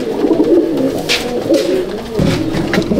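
A pigeon in a loft coos close by, a continuous rolling, throaty murmur with repeated swells over three seconds, loud and clear with no talk.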